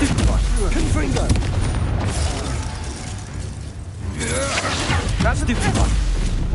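Spell blasts from Stupefy and Confringo fire off in the Hogwarts Legacy video game, booming and shattering in dense bursts over layered game sound effects and music, with a character's voice calling out across the action.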